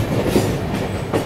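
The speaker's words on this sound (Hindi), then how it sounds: "देखो अब हमारी ट्रेन चली है" A steady low rumble of the Coromandel Express train rolling along tracks in India, continuous and fairly loud, with faint rhythmic clatter and no voices.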